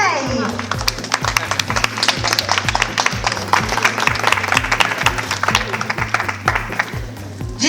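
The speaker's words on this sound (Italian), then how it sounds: "con un grande applauso, Carlotta Callegaro con il numero 6" Audience applause for the second-place contestant at a regional beauty pageant final, dense steady clapping over rhythmic music beats, with someone talking over it.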